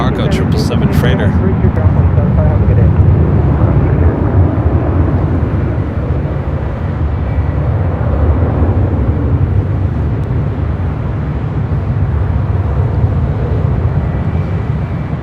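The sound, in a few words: Crane Air Cargo Boeing 777 freighter taking off at LAX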